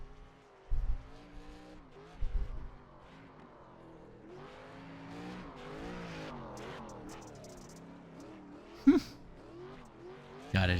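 ARCA stock race car sliding sideways around a dirt oval in a racing game, its engine droning steadily with rising and falling revs, a few sharp thumps from bumps or scraping suspension, no talk.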